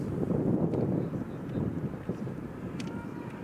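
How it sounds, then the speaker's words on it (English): Strong wind gusting across an outdoor field at a girls' varsity soccer game, a steady low rumbling buffet against the microphone for the whole stretch, with faint game sounds behind and no talk. "It is kind of windy."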